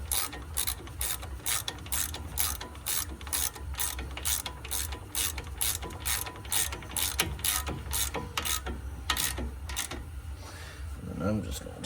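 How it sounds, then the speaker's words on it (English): A hand ratchet tightens front brake bolts on a 2011 GMC Terrain during a pad and rotor replacement, a fast run of sharp, close clicks in steady rhythm over about ten seconds, then stopping. "And I'm just gonna tighten it with this ratchet as tight as I can get it."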